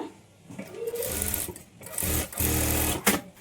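A sewing machine stitches around a patchwork blouse design, running in two bursts of steady, close whirring with brief pauses between them.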